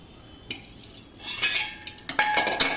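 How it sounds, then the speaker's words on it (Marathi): Peas being sieved through a metal strainer set over a pot: a quick clatter, then bursts of rattling and clinking metal as the peas shake and tumble through, loud and close. "आता हे जे आहेत ना वाटाणे सगळे आपल्याला चाळून घ्यायचे आहेत"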